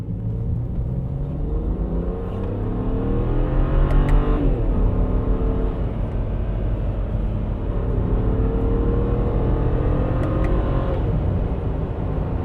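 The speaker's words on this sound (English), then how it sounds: "Let's test out these little paddle shifties. Second gear pull, baby, let's go." A BMW 335i accelerating hard in second gear using paddle shifters, the engine note rising steadily in a loud, close, sustained pull with a brief dip around a shift, then climbing again.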